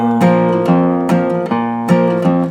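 Acoustic guitar playing a short bass-line riff from a song, a few plucked low notes leading into ringing strummed chords, close and loud with no voice.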